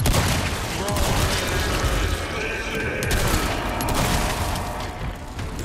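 Dense, continuous gunfire and clattering mechanisms fill a Resident Evil 4 Remake battle, loud and sustained throughout without pause.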